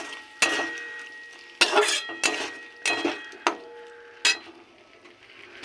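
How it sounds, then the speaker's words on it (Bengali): Spices with salt, cumin and chili powder being stirred and fried in a pan for soya curry, heard as separate loud clinks and scrapes of a spoon against the pan over a faint background. "নুন জিরে গুঁড়ো দিচ্ছি লঙ্কার গুঁড়ো আর নেড়ে কষিয়ে নেব"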